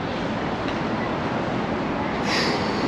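A subway train at a Brooklyn station in South Williamsburg rumbles loudly and steadily as it rides through, with a brief high metallic squeal near the end and no talking.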